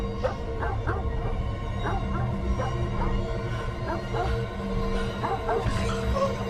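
A dog in a film scene gives repeated short barks and yips at a medium distance, over a steady low background rumble, with some whimpering between the barks.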